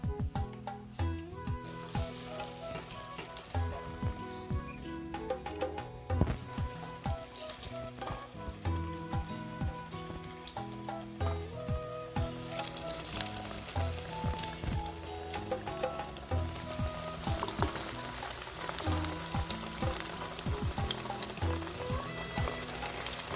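Toor dal vadai made from ration-shop lentils bubble and sizzle steadily in hot oil, a dense continuous crackle with small pops that stays even throughout, no voices over it.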